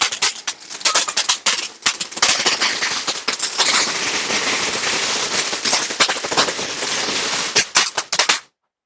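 A juice-bottle-shaped Diwali firecracker from Sivakasi bursts in a long, rapid crackling string of loud pops, machine-gun-like and close, running for several seconds before cutting off abruptly.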